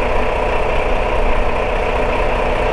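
A tractor truck engine idles steadily in a loud, continuous low rumble with a faint knocking texture, heard close and alone before the rig backs under a trailer.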